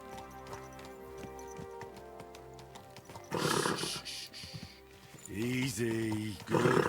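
A horse whinnies and snorts amid a quiet game-like ambience in the video game Kingdom Come: Deliverance 2, with a voice speaking in between.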